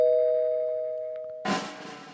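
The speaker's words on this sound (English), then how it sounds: "Doorbell." A doorbell sound effect rings a sustained electronic tone that slowly decays, then a burst of broad noisy sound cuts in abruptly near the end.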